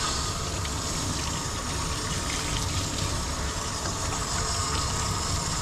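Water sprays steadily while rinsing a shampooed Shih Tzu with a very dry, yeast-affected coat during a bath, a dense continuous hiss with no pauses or voices.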